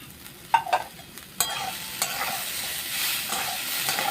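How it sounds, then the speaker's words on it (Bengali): Red lentils with split green chilli, chopped tomato and whole garlic cloves are stirred and fried in a pan, a few sharp spatula scrapes, then a steady soft sizzle builds, close and alone. "এবার এই সব উপকরণগুলোকে দিয়ে ভালো করে নেড়ে চেড়ে 2 মিনিটের মতো আমি ভেজে নেব।"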